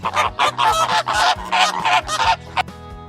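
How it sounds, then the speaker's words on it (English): A flamingo honks repeatedly like a goose, a quick series of loud, nasal honks close by with short gaps between calls. "Flamingos make a honking noise, almost like a goose."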